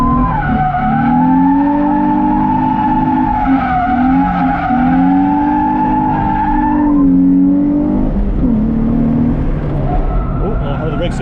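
A modified car drifting on the Lime Rock track day, loud sustained tire squeal with a wavering pitch over a revving engine for about seven seconds, then easing into a rougher engine note.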